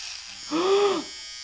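An electric shaver runs close up for about half a second while a man's beard is trimmed into a styled shape, giving a steady buzzing hum that rises and falls away quickly, with no talk over it.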